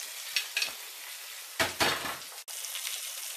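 Cod sizzling in a frying pan, a steady hiss with a few scraping stirs and a brief clatter of a utensil against the pan.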